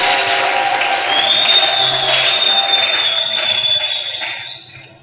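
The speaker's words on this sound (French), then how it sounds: "Obeteli kolo maboko." A church congregation claps and cheers in loud, sustained applause that fades out toward the end, with a steady high whistle-like tone running through the middle.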